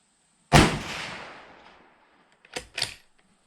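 A single loud, close rifle shot from a Mossberg Patriot chambered in 350 Legend firing Browning FMJ ammunition, with a long decaying echo, followed by two quick sharp mechanical clacks of the bolt being worked.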